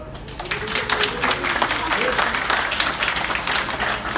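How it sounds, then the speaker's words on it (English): A small group of people clap in a brief, steady burst during an Everglades alligator outing, with a voice speaking over the applause. "Sometimes people clap."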